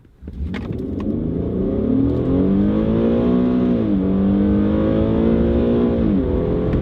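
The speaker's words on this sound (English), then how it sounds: "We'll come to a stop and we'll floor it." An older all-wheel-drive Infiniti with paddle shifters launching from a stop at full throttle, engine revving loud and close, the rising drone dipping twice as the automatic shifts up.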